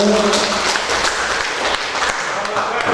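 Applause from an audience at an Islamic religious gathering, a dense, continuous patter of clapping under and alongside a speaking voice, fairly loud and close throughout.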